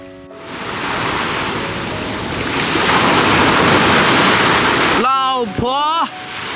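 Ocean waves wash steadily onto a Thai seashore, a broad continuous roar of surf with wind buffeting the microphone, then a person's voice speaks briefly near the end over the surf.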